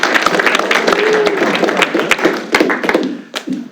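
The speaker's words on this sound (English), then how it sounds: "let's give him a hand first" An audience at a DCMIP academic session claps steadily, a dense close patter of many hands with a few louder individual claps, tapering off toward the end.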